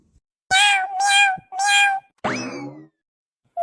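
A cat meows four times, close and loud: three quick, similar calls in a row, then a longer, falling meow after a short pause.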